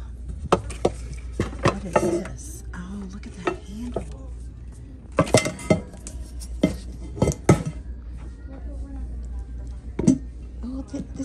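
Metal and ceramic cooking pots are picked up and set down in a thrift store, giving off sharp clinks and clanks at irregular intervals under a shopper's voice and background store noise.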